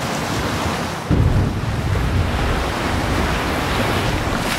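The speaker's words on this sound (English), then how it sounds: "perform a search for ocean sounds. Drag the ocean sound effect to the timeline area" Ocean waves sound effect: a dense, steady wash of surf noise that swells with a louder surge about a second in, then rolls on evenly and fairly loud, with no voices.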